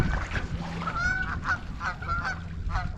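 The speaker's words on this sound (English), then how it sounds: "Here come the geese again." Canada-style geese honk repeatedly as a flock passes close overhead at a lake during a spring canoe trip, loud nasal calls overlapping in a quick irregular rhythm.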